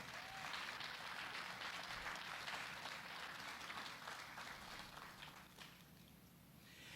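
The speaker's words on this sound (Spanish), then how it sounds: "Denle un aplauso al Señor por eso." A church congregation at a Spanish-language Sunday sermon breaks into applause, a broad wash of clapping that holds for several seconds and then slowly thins and fades toward the end.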